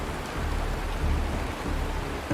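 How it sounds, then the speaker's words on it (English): Steady rain falls throughout a scene in the video game Honkai: Star Rail, a constant broadband hiss close and even in level, with no speech over it. "It is raining!"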